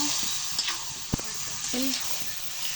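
Chicken sautéing in a pan for biryani, a close, steady hiss and sizzle with a couple of sharp utensil taps, while a voice speaks briefly over it.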